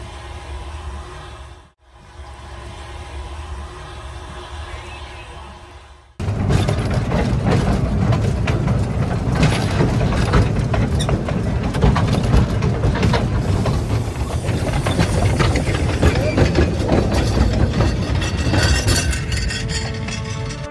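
A small narrow gauge train at Loon Mountain ski resort in Lincoln rumbles and clatters along the rails, steady mechanical clanking and rolling noise after a brief quieter stretch at the start.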